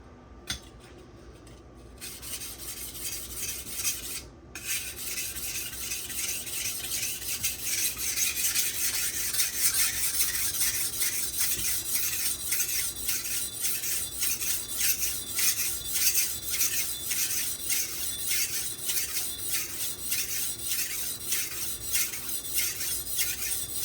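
A kitchen knife is ground against a Bernal Cutlery Takarazukushi or Nubatama sharpening stone, making steady, close rhythmic rasping strokes that continue almost without pause after a brief quiet start.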